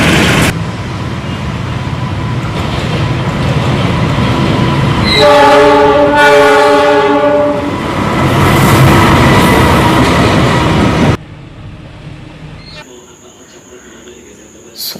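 A CC206 diesel locomotive hauls a train past close by, with a loud rumbling roar of engine and wheels, a long multi-tone horn blast in the middle, then a sudden drop to quieter ambience with insects chirping.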